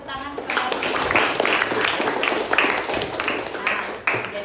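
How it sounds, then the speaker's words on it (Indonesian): A classroom of students claps for a classmate after she answers correctly, a steady patter of many hands filling several seconds with uneven bursts and no pauses. "Beri tepuk tangan kepada Arsy."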